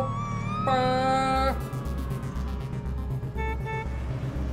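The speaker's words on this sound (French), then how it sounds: "Voitures et camions klaxonnaient très fort." Vehicle horns honk loudly on a busy highway, one long blaring toot followed by a series of shorter, rhythmic honks over a low rumble of passing traffic.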